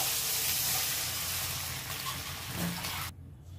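Brinjal and potato frying in a pan sizzle loudly and steadily as water is poured in, a dense bright hiss that holds for about three seconds and then cuts off abruptly.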